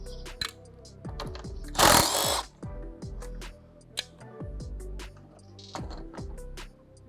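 A ratcheting tool works loose 10mm bolts on the degas bottle of a 2015-2017 Ford F-150 5.0L, rapid clicking bursts with one longer whirring spin and metallic ticks in between.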